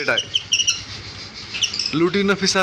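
A pair of red-eyed Lutino Fischer's lovebirds gives sharp, high chirps and short tweets near the microphone, with a voice-like murmur rising briefly underneath.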